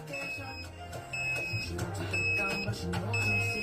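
Short high electronic workout-timer beeps repeat at a steady interval during a HIIT cardio workout, over a busy background of music and low rumble.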